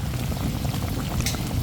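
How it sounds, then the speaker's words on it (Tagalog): Turkey adobo bubbling steadily in a pressure cooker, a dense, continuous low simmering burble heard up close with no talking. "Wow, ayan, kumukulo na. Malambot na yan dahil na pressure cooker naman."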